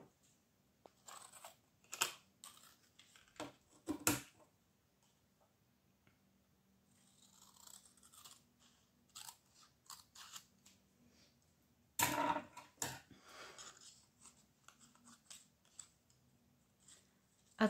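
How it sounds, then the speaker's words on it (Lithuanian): Scissors snip through a paper sewing pattern for a pleated skirt, cutting along seam-allowance lines in short bursts of crisp clicks and crunches with quiet pauses between, close and fairly faint. "kerpu taip iki įsiuvo galo, o tada jau pagal įsiuvo linijas"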